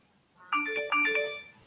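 A phone's ringtone notification sounds alone for about a second, a clear electronic melody of bright stacked tones in two or three quick bursts over a quiet room.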